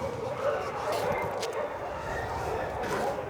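A deaf dog barks and yips mixed with whimpering, fairly close, over a steady noisy background with some voices.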